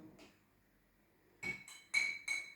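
A spoon clinks against a glass of warm water and honey several times in quick bursts, with bright ringing taps close by and a quiet pause before them.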